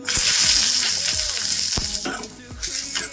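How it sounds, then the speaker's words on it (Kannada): Sliced green chillies fry in hot oil for a raw mango gojju, a close, bright sizzle with several sharp scraping strokes of a spatula against the pan. "ಹಸಿಮೆಣಸಿನ್ಕಾಯಿ ಹುರ್ಕೋಬೇಕು"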